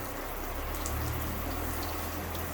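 A garden hose on its shower setting sprays water onto car paint panels coated with ceramic protectant, a steady close hiss of droplets pattering on the surface with no talking.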